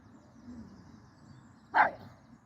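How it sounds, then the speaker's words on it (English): A dog in the Soviet-era video game Gav-Gav Odyssey gives a single short, sharp bark that cuts in near the end of a quiet, low hum. "I'm not really sure about Gav as a barking sound."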